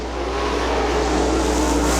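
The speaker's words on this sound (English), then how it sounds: "Dirt track racing action at its best. The Outlaw Wing Sprints here at Butler Motor Speedway." Winged Outlaw sprint cars racing on the 3/8-mile high-banked dirt oval at Butler Motor Speedway, a loud steady engine roar filling the whole stretch without a break, with no voices.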